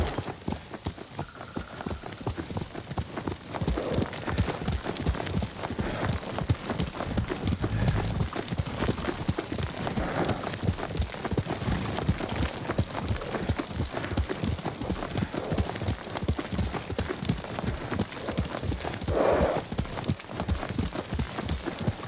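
A horse's hooves clop rhythmically while being ridden in the samurai game Ghost of Tsushima, a steady fast trotting beat that continues for about twenty seconds, close and prominent, with no speech.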